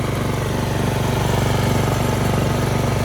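Husqvarna lawn tractor engine held at full throttle while driving around the block, a steady, loud, close mechanical drone with a fast regular pulse throughout, no voices.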